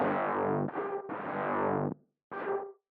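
Synth sound with reverb feeding distortion and wave folders: harsh, buzzing distorted tones in several bursts, three joined then a short gap and a final shorter one, loud and alone.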